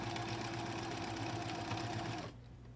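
A sewing machine stitches a sleep bonnet about an eighth of an inch from the fabric edge, running as a fast steady mechanical whir that stops abruptly near the end, leaving a quieter hum.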